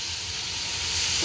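Tomato hits a hot pan and sizzles in a steady, close, loud hiss that swells slightly toward the end.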